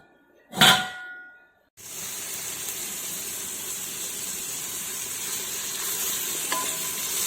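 A sharp metallic clang of a lid or utensil rings out, then after a brief lull onion and fennel seeds hit the hot pan and settle into a steady, loud sizzle for a chicken biryani.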